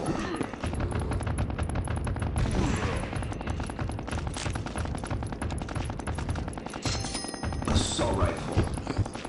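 Rapid bursts of assault rifle gunfire during a boss wave in a video game, loud and sustained throughout with dense overlapping shots.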